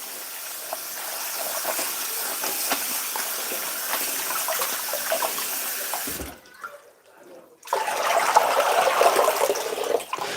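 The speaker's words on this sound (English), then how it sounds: "So we are washing the pumpkin leaves." Pumpkin leaves being washed under a running kitchen tap, a steady loud splash and hiss of flowing water that briefly cuts out partway through, then resumes heavier, with no talking.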